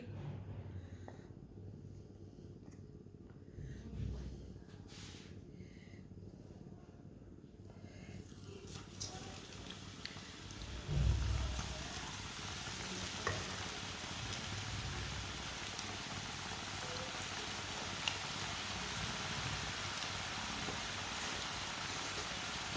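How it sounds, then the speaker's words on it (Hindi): Potato chips in batter drop into hot oil, and after a few soft knocks a dense, even hiss of deep-frying rises and holds steady to the end. "ऑयल हमारा अच्छी तरह गर्म हो चुका है। अब इसमें चिप्सें डालेंगे।"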